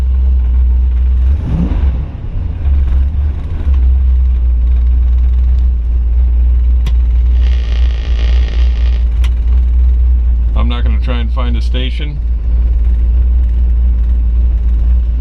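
A 1969 Ford Mustang with a 428 Super Cobra Jet engine idles as a loud, steady low rumble heard from inside the car, with someone talking over it and brief clicks from the dash.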